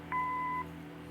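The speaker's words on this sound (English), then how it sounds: "Leave a message after the beep." Answering machine beep in the detective game Kathy Rain: a single clean electronic tone lasting about half a second, clear and alone over a faint background hum.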